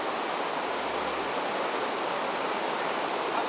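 Dense, unbroken roar of a waterfall at the quilombo, a loud, even wash of falling water that fills the whole clip with no voices.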